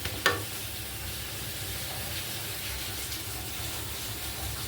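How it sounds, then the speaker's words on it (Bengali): Papad frying in hot oil in a home kitchen gives a steady, close sizzle with a brief sharp crackle near the start, then an even bubbling hiss throughout. "দেখো, এইদিকে একটু পাঁপড়ও ভেজে নিচ্ছি।"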